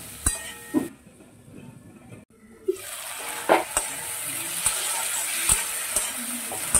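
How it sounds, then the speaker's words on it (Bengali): Potatoes and onions sauté with Kashmiri chili powder, ginger and tomato for a Bengali fish curry, with sharp spoon clinks against the pan over a steady sizzle after a brief quiet gap and no talk. "এবারে ভালো করে এই মশলাটা দিয়ে আলু আর পেঁয়াজটাকে কষিয়ে নেব।"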